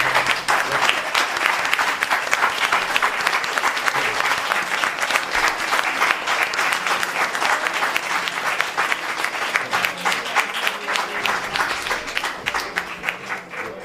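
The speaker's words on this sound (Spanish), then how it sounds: "Fuerte aplauso." Strong, steady audience applause closing a talk on the mental health crisis in children, adolescents and young people, a dense continuous crowd of clapping that holds at full level for the whole stretch.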